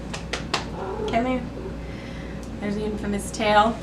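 A cat meows and cries several times in the background while a person talks nearby, the calls rising and falling in pitch.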